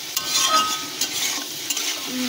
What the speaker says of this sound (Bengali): ভালো করে কষিয়ে নেবো এটাকে